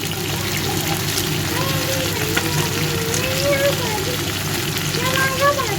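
Ginger paste frying in a little oil while stirred, a close, even sizzle with faint scraping and some soft background noise throughout.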